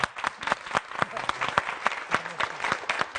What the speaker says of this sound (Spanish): un gran aplauso aquí